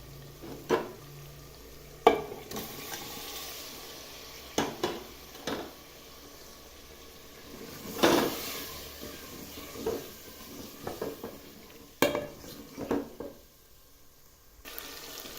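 Beef fries with spices in a pot for an aloo gosht curry, a quiet sizzle punctuated by a dozen or so sharp spoon clanks and stirring scrapes at irregular intervals.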